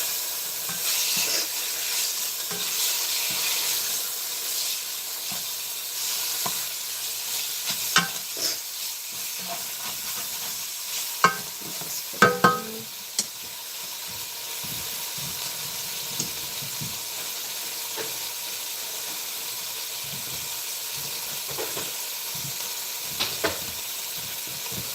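Lamb sears in a pan for an Algerian okra dish, giving a steady, moderate sizzle with occasional stirring clicks and scrapes and no talking.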